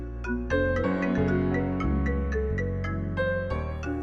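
A phone rings in a melodic tone, playing a repeating series of clear, evenly spaced notes close and loud in an office setting, with no voices over it.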